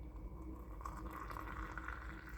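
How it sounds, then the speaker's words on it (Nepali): Boiled hot water is poured into a cup, a faint, soft filling gurgle with a gently rising tone over about two seconds, heard alone without talk. "बस उमालेको पानी बस हाल्ने।"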